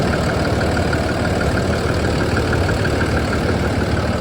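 A 2021 International MV607 26-foot box truck idles with a steady, even diesel rumble, loud and close throughout, with no voices over it.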